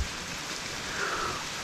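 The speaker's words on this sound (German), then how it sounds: "Seit 6 davon schneit es so Schnee, Regen, ganz feiner Sprühkram." Rain and fine sleet hiss steadily at night in a stormy forest, a soft even wash of drops falling on a poncho and ground with no voices.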